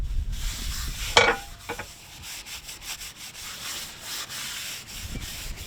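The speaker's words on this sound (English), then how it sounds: "I'm just going to clean the inside edge of the disc." Close scrubbing and rubbing while wiping clean the inside edge of a Range Rover L322 rear brake disc, with a brief sharp metallic scrape early on and uneven strokes after.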